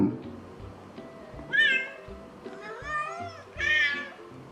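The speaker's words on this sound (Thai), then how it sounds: "เวลาที่แมวรู้สึกง่วงมันก็จะร้องประมาณนี้นะครับ" Synthetic cat meows played from a cat translator phone app, three drawn-out mewing calls in a row, fairly close and clear over a faint background with no talking.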